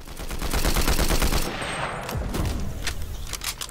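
A new weapon firing in Fortnite, a rapid close burst of automatic shots at first, then looser scattered shots and impacts that taper off toward the end.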